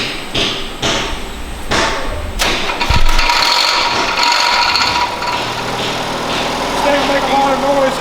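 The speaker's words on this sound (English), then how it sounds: "Got a propane powered race motor." A propane-powered race engine, an Iron Duke with about 80 horsepower, runs nearby with a rough, steady drone, thumps and clatter mixed in, while people talk over it.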